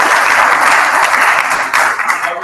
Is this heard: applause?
yes